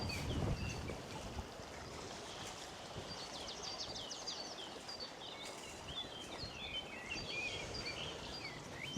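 A brook flows in a steady, gentle wash along a hiking trail, heard at a moderate distance with birds chirping lightly above it and no talking.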